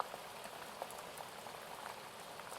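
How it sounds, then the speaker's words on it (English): Rain pattering on the outside of a tent, a soft dense hiss of fine drops, steady and faint, with no talking. "And that rain begins to pitter-patter down on the outside of the tent."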